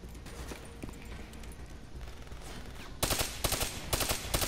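Rapid automatic gunfire rattles in the Call of Duty Black Ops III campaign, a dense burst of loud shots starting partway through over a steady game-sound bed.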